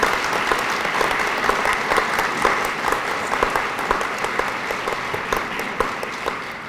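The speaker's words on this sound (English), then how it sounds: "Let's give them a nice round of applause." An audience at a middle school dedication ceremony gives a round of applause, with dense, steady clapping from a large crowd that continues for several seconds at an even level.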